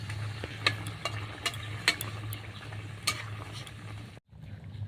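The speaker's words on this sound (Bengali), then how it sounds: "এখন আমি এই নারকেলের দুধ আবার দিয়ে দিচ্ছি উপর দিয়ে নাড়াচাড়া দিয়ে দিচ্ছি" Coconut milk masala curry for duck egg malai curry being stirred in a pan, soft simmering sizzle with repeated utensil scrapes and taps, then a brief drop to near silence near the end.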